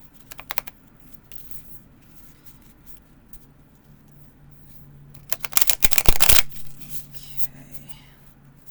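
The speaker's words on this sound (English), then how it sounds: "You can try to do it sideways, shuffling." Stiff new tarot cards being shuffled sideways, a crisp fluttering riffle that swells in the middle of the stretch, with scattered light card taps and handling sounds before it against a quiet room.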